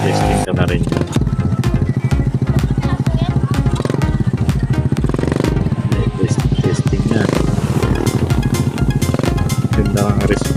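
A Suzuki Smash 110 with a 54mm bore-up and 26mm carburetor revs loudly and steadily up close, its engine rattling throughout as someone speaks over it.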